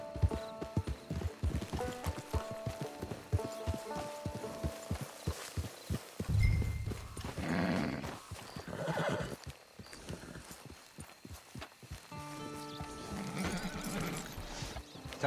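Horse in the video game Red Dead Redemption 2 clopping its hooves in a steady walking rhythm, then letting out loud whinnies midway and again near the end, close and clear.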